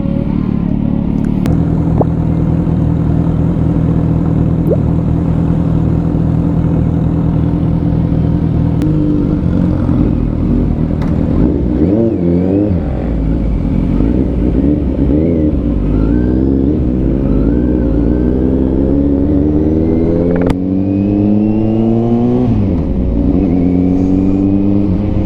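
Suzuki GSR 750 motorcycle fitted with an Orion exhaust, revving loudly and steadily up close, the engine pitch climbing and falling in repeated throttle blips over a constant rumbling idle.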